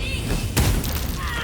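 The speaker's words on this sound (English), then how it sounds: "Shadowheart's gonna cast the Firebolt at this fire wine barrel." A fire wine barrel hit by a Firebolt spell in Baldur's Gate 3 bursts with a single sharp, heavy boom midway through a dense, rumbling battle background.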